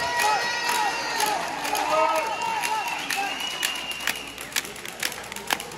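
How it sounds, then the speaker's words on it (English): Audience applause and clapping fill a large hall at a professional Latin dance competition final, steady and lively throughout with scattered sharp claps and cheering, while voices carry over the crowd noise. "There's too much clapping going on."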